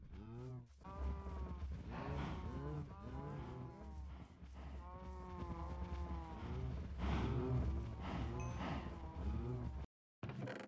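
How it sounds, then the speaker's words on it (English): Cows mooing in Minecraft, a close run of repeated, overlapping moos from a herd, loud and continuous with a brief drop near the end. "Let's go ahead and take care of these cows next then."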